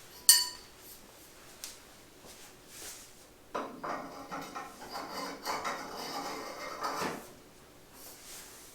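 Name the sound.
stainless steel supports sliding into flight simulator cockpit frame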